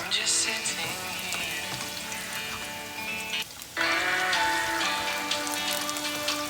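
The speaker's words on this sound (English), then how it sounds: "So here are our potato is being fried." Potatoes frying in a pan for a bacon and veggie omelette breakfast, a steady dense crackle and sizzle with light background music tones, briefly dipping around the middle before resuming at full strength.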